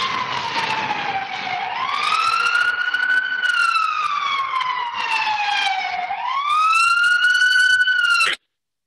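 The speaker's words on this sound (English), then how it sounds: "The sirens in the background" Emergency vehicle sirens wail loud and close in New York City on 9/11, rising and falling in long sweeping cycles over a truck rumble before cutting off abruptly.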